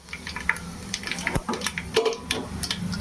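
Fenugreek, pepper, cumin and urad dal spluttering in hot oil for a fish kuzhambu, close crackles and pops bursting irregularly over a steady sizzle.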